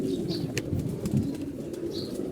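Pet pigeons in a loft coo softly and low, with a few faint chirps and light rustling over a steady murmur of background noise, fairly quiet and close.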